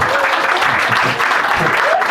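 Applause from a stand-up comedy audience in Switzerland: loud, dense clapping from a close crowd, steady throughout, with a brief dip near the middle and faint voices or a whoop mixed in.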